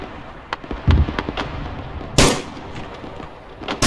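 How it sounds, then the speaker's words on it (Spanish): Automatic gunfire from a machine gun in a video game, heard as scattered sharp bursts and cracks with one louder blast near the middle, over a steady background of battle noise. "Al 320 hay una ametralladora."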